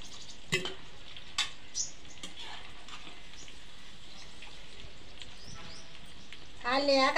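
Chicken pakoda pieces frying in hot oil for crispy street-style snacks, a low steady sizzle with a few soft clinks and taps, then a louder bubbling burst of frying near the end.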